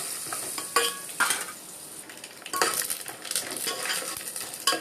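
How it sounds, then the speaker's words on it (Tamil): Chana dal, dried red chillies, curry leaves and asafoetida frying in oil for lemon rice, a soft sizzle broken by bursts of stirring and light utensil scrapes. "பெருங்காயம், கடலைப்பருப்பு, காஞ்ச மிளகாய், கருவேப்பிலை எல்லாத்தையும் எண்ணெயில் போட்டுடணும்."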